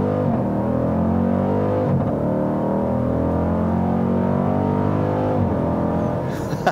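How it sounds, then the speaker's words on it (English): A 2018 Dodge Durango SRT floored from a standstill without launch control, its engine revving loud and close as pitch climbs steadily through rising gears for several seconds. "Let's just floor it from a stop."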